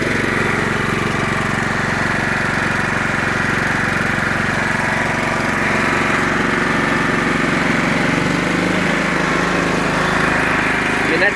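A 2000 John Deere LT155 lawn tractor's single-cylinder Command engine runs steadily and loudly close by, a constant droning rumble throughout with no letup.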